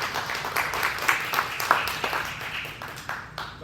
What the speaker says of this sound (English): Without further ado, let's clap it up